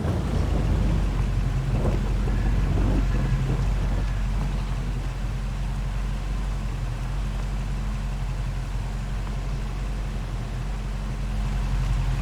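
Steady rain pours with low rolling thunder in a Farming Simulator 22 farm setting, loud and continuous, with a heavier rumble early on that settles into constant downpour.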